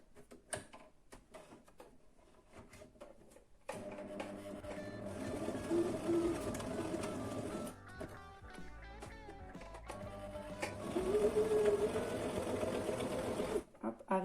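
A sewing machine stitches a fabric mask, running in a steady, close mechanical chatter for about ten seconds after a few quiet clicks. A voice can be heard alongside it.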